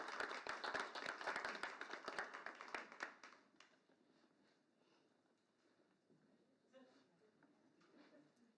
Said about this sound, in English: Okay, another round of applause.